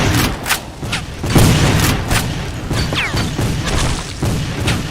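Civil War cannons fire in a loud, close battle, with repeated sharp booms and crashes landing in irregular succession over a rumbling din of combat.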